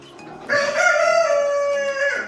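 A Sabelpoot bantam rooster crows loudly and close by, one long drawn-out call with a strained, wavering tail, heard alone without talk.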